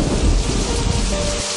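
Heavy rain pours down in a loud, dense downpour with a deep rumble of thunder in the low end, continuous throughout.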